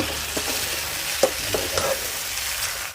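Fried egg being stirred into tomato sauce in a pan for Egg 65, a steady sizzle with scattered scraping spoon strokes against the metal, close and fairly loud throughout.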